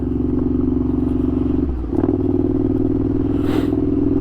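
A Ducati Scrambler motorcycle engine drones steadily while riding, briefly dipping as the throttle changes before resuming its loud, even rumble.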